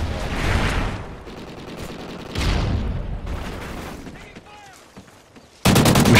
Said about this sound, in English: I'm shooting them off this bridge.